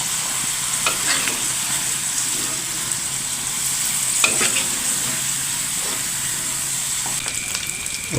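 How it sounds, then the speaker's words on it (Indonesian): Jengkol beans fry in hot oil in a pan, giving a steady close sizzle with a few scraping stirs, no voices. "kita goreng jengkol dulu."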